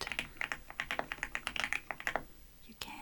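Soft, steady keyboard typing close by, a quick run of light clicks and clacks in an uneven rhythm, pausing briefly near the end before a single key tap.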